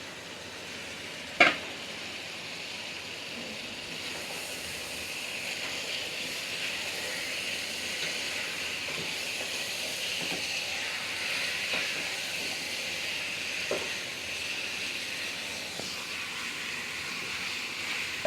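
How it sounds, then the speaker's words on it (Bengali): Mutton (goat meat) is stirred and fried with spices and tomato sauce in a pan, giving a continuous loud sizzle and hiss with occasional scraping and clanking of the spoon, including one sharp knock early on. "এই যে মাংসগুলা নাড়িয়ে সুন্দরভাবে মশলাগুলা একসাথে অ্যাটাচ করা হয়ে গেছে"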